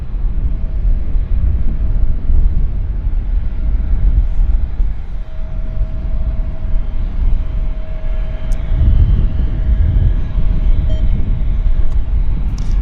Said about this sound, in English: Got a Dash 8 taxiing out here.